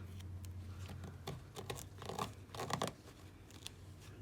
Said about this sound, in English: We're going to gently pull off our tape and without ripping our stabilizer.